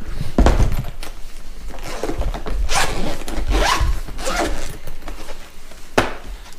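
The zipper on a Holy Stone HS720 drone's fabric carrying case is pulled open in several quick rasping strokes, close up, mixed with soft rubbing and handling of the case.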